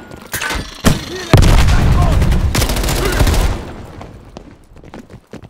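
In the Cuba mission of the video game Call of Duty Black Ops Cold War, a loud grenade blast booms amid sustained rapid gunfire, the barrage thinning into scattered shots and fading toward the end.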